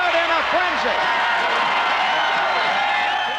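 A packed football stadium crowd at a 1992 Buffalo Bills game roars in a frenzy after an interception, a loud, continuous wall of cheering and whooping with an announcer's voice running over it.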